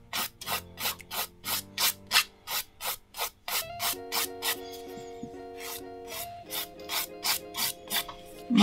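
Nail file rasping across the surface of a fingernail in quick, rhythmic strokes, close and crisp, about a dozen short scrapes before a pause and then another run of strokes over soft background music.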